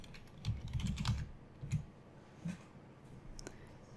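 Quiet, close keystrokes on a computer keyboard, a quick burst of clicks followed by a few scattered taps, while entering a LaTeX table.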